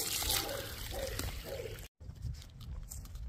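Water runs from a garden hose with good pressure after a well tank sediment flush, a close, steady rushing splash broken by a brief cut before continuing.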